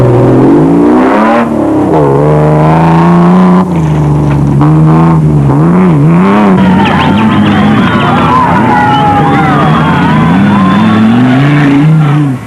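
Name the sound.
off-road racing vehicles driving and revving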